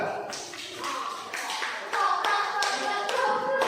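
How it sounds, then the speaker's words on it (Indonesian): Classroom applause for a student group after its presentation, a modest patter of clapping hands with scattered louder taps, fairly close and uneven, building a little in the second half. "Beri tepuk tangan buat kelompok 2."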